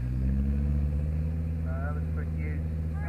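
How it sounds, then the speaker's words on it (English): A BMW Z8 idles steadily at a supercar rally, its low engine rumble continuous and close, while people talk over it. "And that's up against the BMW Z8."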